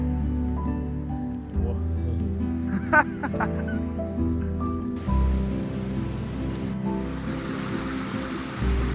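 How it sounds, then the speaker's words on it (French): Hail pelts a group of hikers on the GR20 mountain trail, a steady, dense rattling hiss over a low rumble that grows louder and harsher partway through, with faint voices underneath. "ce qui est en train de nous tomber sur la gueule, c'est de la grêle"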